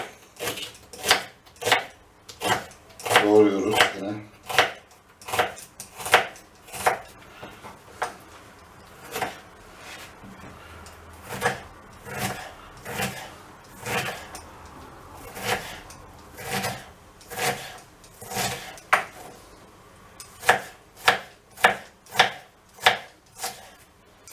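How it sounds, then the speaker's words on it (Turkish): A knife chops a medium-sized white onion into small slices on a board, with a long run of crisp, evenly spaced cuts, briefly quickening into a rapid flurry, all close and clear with no talking. "bir adet orta boy beyaz soğanı aynı şekilde ufak dilimleyip"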